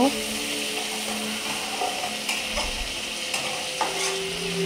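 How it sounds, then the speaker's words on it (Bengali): Spice paste for a Bengali pabda fish curry sizzles steadily in oil, with scraping stir strokes and faint background tones. "মশলাটা ভালো করে কষিয়ে নিব"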